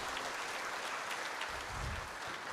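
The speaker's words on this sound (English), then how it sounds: "Big round of applause for them." Audience applause at a crude oil receipt ceremony at MRPL in Mangalore, heard as steady, fairly faint clapping from a distance that continues evenly throughout.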